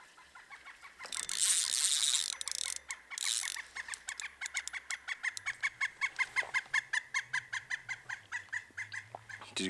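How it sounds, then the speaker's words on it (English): A pileated woodpecker in remote wilderness gives a long, steady series of loud, evenly spaced calling notes. Rustling and handling noise come first. "Big old pileated woodpecker laughing at me for getting a snag."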